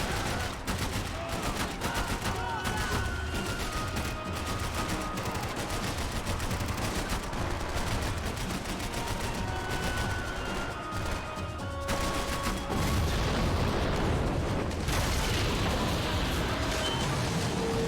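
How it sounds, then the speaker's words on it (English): Sustained gunfire from the video game Max Payne 3, dense rapid shots crackling continuously and loudly throughout with bursts of impacts, mixed with game music and effects. "I can't concentrate with bullets whizzing past my head."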